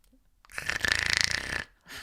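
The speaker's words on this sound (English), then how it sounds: "at the back of the room is a loudly snoring man" A man snores loudly at the back of a room, one long rasping inhaled snore lasting about a second, close and alone, followed by quieter breathing.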